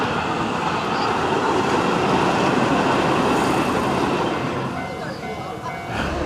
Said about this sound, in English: Oh, we got another train incoming.